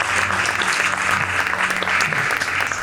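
Conference audience applauding warmly, dense continuous clapping at close range with a faint murmur of voices underneath throughout.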